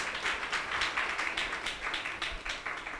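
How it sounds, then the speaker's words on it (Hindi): A church congregation applauding together in a rhythmic, steady beat of claps, moderately loud and sustained for a few seconds. "जोरदार तालियां आप अपने आप के लिए भी बजाएं, परमेश्वर के लिए भी बजाएं जरा।"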